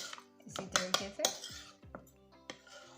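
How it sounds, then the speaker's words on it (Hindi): Yogurt and ground ingredients for chana chaat are stirred in a bowl, with a spoon clinking and scraping against the dish in a quick series of bright metallic knocks, close and fairly quiet. "अब हम दोनों चीज़ों को अच्छे से मिक्स कर लेंगे"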